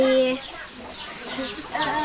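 A chicken held in hand before slaughter, in a village in Champasak, Laos, clucks in short, close, repeated calls, with a few quieter clucks trailing at the end.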